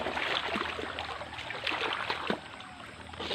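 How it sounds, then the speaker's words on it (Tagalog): A river flowing in a mountain area after a typhoon, heard as a steady close rush of water with light splashes and trickles throughout, fairly faint and without talking. "May ilog dito."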